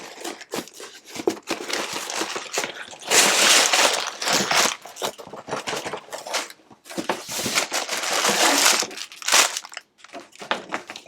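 Packaging of a Lego Ideas Sesame Street set being torn open, with dense crinkling and crumpling plastic and cardboard rustles in uneven bursts, close and fairly loud, and short quieter gaps between handling.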